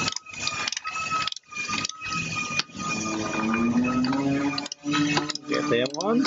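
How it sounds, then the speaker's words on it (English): A torque wrench tightening 18mm brake caliper bolts to 134 Nm on a Kimberley Kampers trailer, giving rapid ratcheting ticks and clicks in several bursts, with a person talking over parts of it. "we always do these up with a torque wrench"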